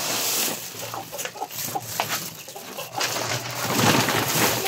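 Young turkeys and chicks being fed, giving a steady stream of soft peeping and clucking bird calls close by, continuing throughout with no clear talk over it.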